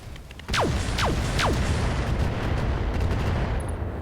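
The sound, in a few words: Gauss rifle firing in video game RogueTech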